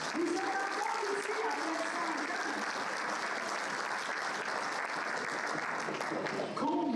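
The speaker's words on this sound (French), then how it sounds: "Applaudissez-vous, mesdames." A room full of women from a rural women's circle marking its hundredth anniversary in Amqui applaud steadily, dense clapping sustained throughout with some voices and tonal murmurs mixed in.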